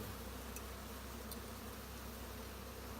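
Honeybees buzz in a steady, dense drone during an acacia honey harvest at an open hive, close and continuous, with a couple of faint clicks.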